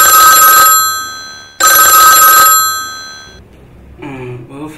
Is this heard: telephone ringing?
yes